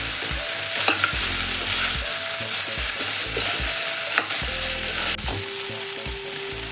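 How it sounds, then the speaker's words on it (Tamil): Country chicken and onions being stirred in a hot pan, with steady frying sizzle and repeated scraping strokes of a spoon against the pan, close and continuous. "நல்லா மிக்ஸ் பண்ணி விட்டுக்கோங்க."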